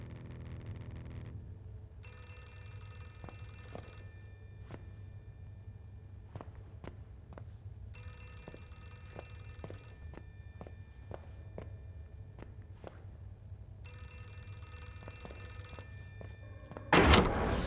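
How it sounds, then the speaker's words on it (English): Telephone ringing in the horror video game Outlast 2, three long bursts of repeated ringing with quiet gaps between them over a low ambient hum, moderately loud, ending in a sudden loud crash. "Is that a phone?"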